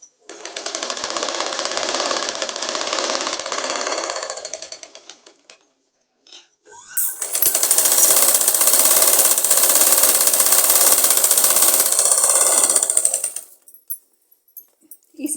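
Electric sewing machine running fast to stitch a seam along the folded edge of buckram fabric for a girl's umbrella frock sleeve cuff, two sustained bursts of close, steady needle clatter separated by a short pause.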